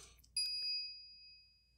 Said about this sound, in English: the microwave chimes.